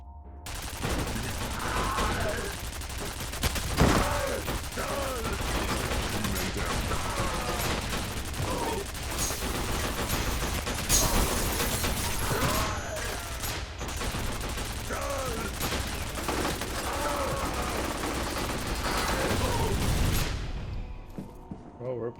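Sustained rapid turret gunfire in the shooter game F.E.A.R. Perseus Mandate, a dense, loud, continuous barrage with booming impacts that runs for over twenty seconds, with voices talking over the shooting.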